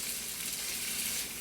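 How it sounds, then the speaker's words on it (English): Steady, close sizzling and crackling of chopped Roma tomato frying in a hot pan, with no voices over it. "we're going to add 1 chopped Roma tomato. Okay. Sizzle, sizzle."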